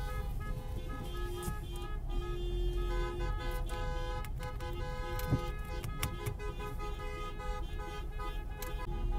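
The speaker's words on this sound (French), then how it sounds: "Et le concert de klaxon reprend de plus belle." Many car horns honk at once during a traffic protest in sustained, overlapping blasts over the rumble of idling traffic, a continuous chorus with no voices.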